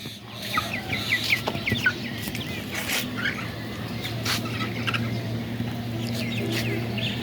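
Golden chickens kept on a rooftop cluck and cackle in repeated short bursts at moderate distance over a steady low hum, with a dog and some faint talk in the background.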